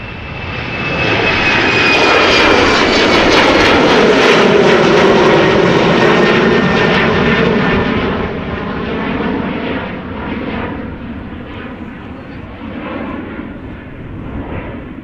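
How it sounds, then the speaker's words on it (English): A 15-year-old Embraer 190 jet airliner departs Amsterdam Schiphol Airport, a loud roaring engine rush with a high whine that swells, holds, then slowly fades as the aircraft moves away. "Embraer 190, 15 years old, first flight October 2008."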